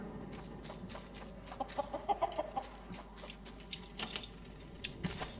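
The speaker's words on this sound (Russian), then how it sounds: "Ой, я слышу, курочка кудахтит" A chicken clucks in short, irregular bursts within the ocean survival game Raft, fairly quiet and mixed with soft clicking game noises.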